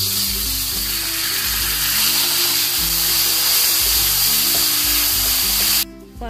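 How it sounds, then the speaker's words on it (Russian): Minced meat sizzles steadily in a hot frying pan with a constant crackling hiss, while soft background music plays underneath. "В отдельной сковороде обжариваю фарш."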